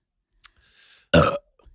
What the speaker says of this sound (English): I won't be able to belch.